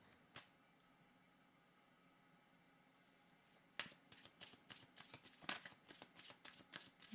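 Tarot cards being shuffled by hand, a rapid run of crisp riffling flicks and slaps after a single snap and a quiet pause, close and fairly soft.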